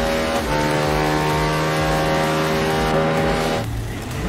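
A Suzuki motorcycle engine in the racing video game Ride 3 drones steadily at high revs, its pitch holding then dropping near the end, loud and close with no talk.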